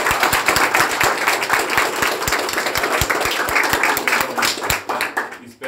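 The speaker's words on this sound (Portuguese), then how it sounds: "Uma salva de palmas para o nosso Pai." Dense applause from a congregation honoring a priest inside a chapel, many hands clapping close and loud in a fast, continuous patter that holds steady throughout with no talk over it.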